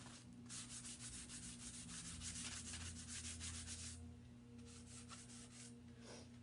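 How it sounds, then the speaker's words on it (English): Dixie Belle sanding sponge rubbed over painted wood on a small coat rack, a quiet close series of rhythmic back-and-forth scratchy strokes over a low background hum, with no voices. "now I'm just taking the Dixie Belle sanding sponge and knocking just a little bit more of it back"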